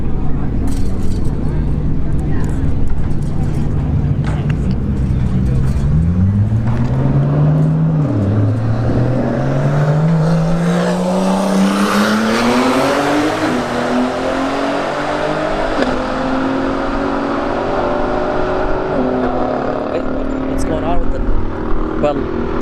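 A Mercedes and a Nissan GT-R launch side by side in a drag race at a street-heat event, engines roaring loud as they rev and shift up through the gears, while a commentator talks over the noise.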